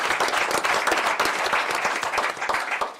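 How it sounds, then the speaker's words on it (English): Attendees at a school district governing board meeting give a sustained round of applause, many hands clapping in a thick, continuous patter with a few sharper claps standing out, fairly close. "So if we give a round of applause for all his years."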